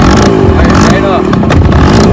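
A 1967 Yamaha U5E 50cc scooter engine running close by, a loud steady buzzing idle with someone speaking over it.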